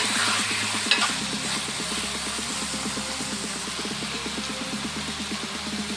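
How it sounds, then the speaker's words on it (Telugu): Half a kilo of chicken sizzles and fries in a pan as it is stirred, with a steady hiss and a rhythmic scraping of the spoon, close and continuous throughout. "ఇప్పుడు చూసారు కదా, మొత్తం బాగా మిక్స్ చేసేసుకున్నాము"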